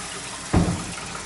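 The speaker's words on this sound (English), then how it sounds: "The water pressure in this building is great, so there's the hot water." Hot water gushes from a kitchen faucet in a building with strong water pressure, starting abruptly as a short, loud burst and then settling into a steady flow.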